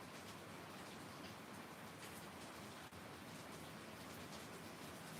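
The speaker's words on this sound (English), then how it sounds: "Oh, it's really raining outside." Heavy rain falls steadily outside a house, a dense, even hiss that continues without a break and with no talking.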